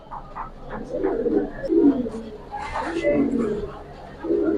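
Pigeons cooing at a pigeon market, low soft coos repeating irregularly with other bird calls and nearby voices mixed in.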